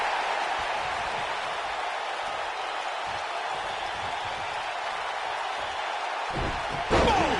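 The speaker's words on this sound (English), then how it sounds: "Oh, an elbow drop. Knocked him right off his feet." An elbow drop slam lands in a wrestling video game on PS4, a sharp thud or two near the end over a constant wash of arena crowd noise.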